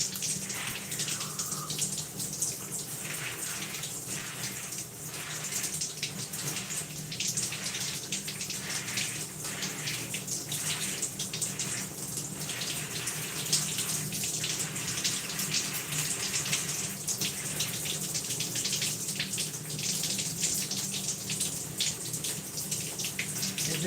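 Water running steadily from a tap or shower while product is rinsed out of wet hair, a constant close splashing hiss with no talking.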